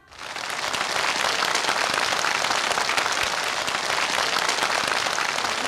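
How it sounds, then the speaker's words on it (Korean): Dense, steady applause from a large audience at a North Korean celebration broadcast for the South Hwanghae waterway builders, swelling within the first half second and then holding loud and even with no voices over it. "뜨거운 축하의 박수를 보내드립시다"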